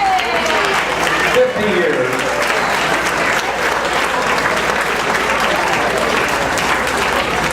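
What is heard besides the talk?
reunion audience applauding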